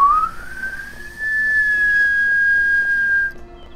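A voice whistles in imitation of a whistling teapot, one steady tone that slides upward and then holds for about two seconds before cutting off, clear and close over faint background game music.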